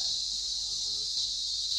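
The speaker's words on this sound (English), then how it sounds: "Cicadas are the only insects capable of producing such a unique and loud sound." Cicadas sing on a summer afternoon in Tadoba Andhari Tiger Reserve, a loud, steady, shrill buzzing that holds unbroken throughout with no pauses or other sounds.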